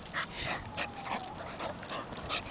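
A dog gives a run of high, excited yips and whimpers close to the microphone, repeating steadily over a couple of seconds with no talking.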